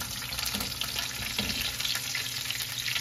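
A breaded chicken cutlet sizzles steadily in a frying pan as it is flipped, a continuous close hiss of hot oil with faint scraping underneath.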